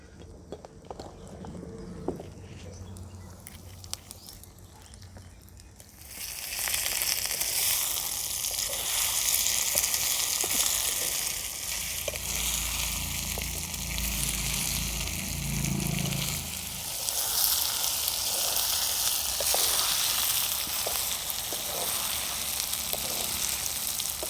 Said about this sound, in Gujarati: હવે આપણે કટિંગ કરેલા બટાકા નાખશું,